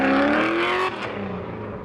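A drift car at a speedway finish line sheds revs and brakes hard, its loud engine note sliding downward and then dropping to a lower rumble as it slows.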